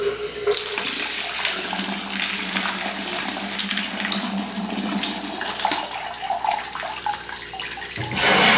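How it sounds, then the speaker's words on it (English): Tap water runs steadily into a container holding tumbled crazy lace agate stones for rinsing, a continuous close splashing gush lasting about eight seconds before cutting off. "And then I'm just going to fill this with water and rinse it a few times."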